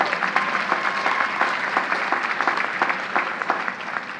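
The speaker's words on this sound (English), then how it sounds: "So give yourselves a big round of applause." Graduates at a college commencement break into dense, sustained applause, a full crowd clapping steadily with scattered louder claps throughout.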